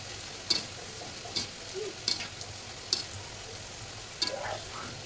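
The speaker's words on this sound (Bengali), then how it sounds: "এরপর এক এক করে সবগুলো নিমকি তেলের কড়াইয়ের মধ্যে দিয়ে ভেজে নিতে হবে।" Nimki pastries frying in hot oil in a wok, a steady quiet sizzle broken by a few sharp clicks of a utensil stirring or turning them, with no voices.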